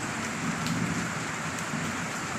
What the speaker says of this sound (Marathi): विजा कडकडत होत्या आणि मुसळधार पाऊस पडतो.